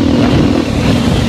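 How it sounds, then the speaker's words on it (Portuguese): A vehicle engine revs hard in a loud, continuous low roar that holds steady through the brief moment without pause. "É essas palhaçadas de pessoa que fica acelerando, ó."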